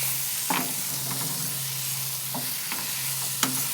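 Steady sizzling of food frying in a pan over a medium flame, close up, with a few soft scraping stirs and no talking.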